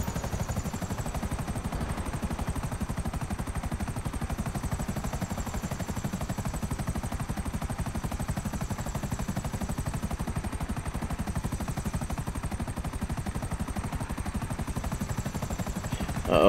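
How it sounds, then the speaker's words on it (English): Helicopters and gunfire in GTA V Online, a dense continuous rapid chopping roar with a faint high whine above it, steady and loud throughout. "Uh-oh, we got choppers"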